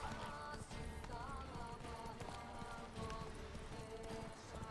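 Roach, the horse in Witcher 3, clip-clops with steady, rhythmic hoofbeats over game music, close and continuous throughout.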